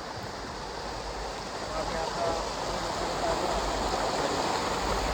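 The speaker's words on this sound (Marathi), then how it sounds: "अशा प्रकारे झरा नंबर 1 चालू झालेला आहे." Steady rushing water flows continuously throughout, a broad even wash of noise from a spring-fed stream close by on the Devkund Waterfall trek.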